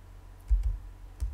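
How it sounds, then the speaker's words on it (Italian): A computer keyboard is tapped in a few quick, light keystrokes inside an Ubuntu virtual machine session, close and fairly quiet with no talking. "ho iniziato a digitare Ubuntu"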